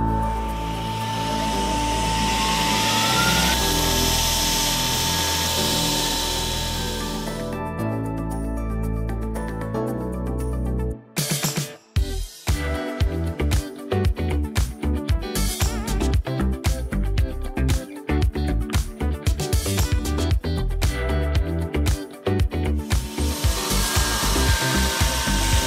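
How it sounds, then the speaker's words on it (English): A steel centre punch is ground on a belt grinder while still hot, producing a loud, sustained abrasive whine that cuts out briefly before resuming in choppy, uneven bursts as the piece is worked against the belt. "I can start grinding while it's hot."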